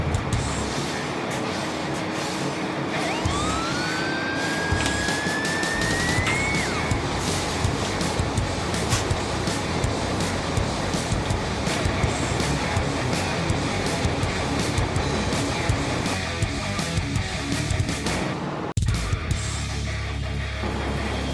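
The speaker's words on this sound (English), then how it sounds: "So the fan is on and it looks like it's stable." Newly installed electric radiator cooling fan on a project car, a loud, steady whooshing drone with a brief rising whine early on, then cutting off abruptly near the end to a quieter hum.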